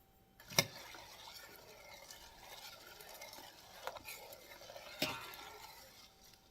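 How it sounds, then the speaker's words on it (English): Black beans with a little sea salt being stirred in a pot, faint quiet swishing with two sharp clinks of a spoon against the side. "And then I'm just going to stir this up."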